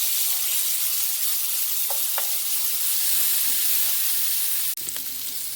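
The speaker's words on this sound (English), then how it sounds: "just put the onions and the garlic in the pan and just saute it" Onions and garlic sizzle steadily in a hot pan, a continuous bright frying hiss with faint stirring scrapes and a brief clatter near the end.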